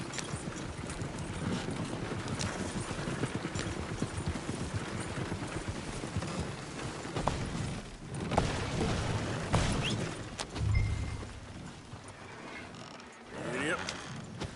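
A horse gallops through trees in a video game, its hooves beating a steady, dense clip-clop over creaking, rattling tack and mechanisms, with the rhythm loud and continuous throughout.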